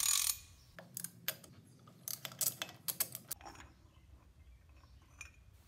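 A ratchet working loose a 54 mm axle nut on a Toyota 4x4 solid front axle, giving a run of quick metallic clicks and clanks close by, then quieter shop ambience.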